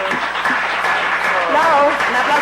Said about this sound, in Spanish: Can you give a loud clap to the Lord?